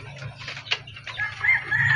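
Hens, two of them tied up, clucking nearby with a few short calls and squawks over low farmyard hum.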